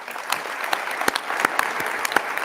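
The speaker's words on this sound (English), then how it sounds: "Let's give you a round of applause." Applause at a county executive's ceremonial inauguration, a room of people clapping steadily with distinct sharp claps standing out from the patter, moderately loud and continuous, with no talking over it.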